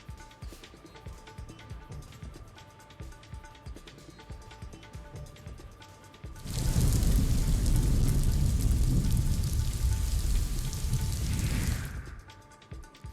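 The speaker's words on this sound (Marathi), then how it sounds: "साक्री तालुक्यातील पिंपळनेर परिसरात अवकाळी पाऊस झाला" Heavy unseasonal rain pours down in the Pimpalner area of Sakri taluka. A dense, loud roar of rainfall bursts in midway after a quieter opening, holds steady for about five seconds, then cuts off.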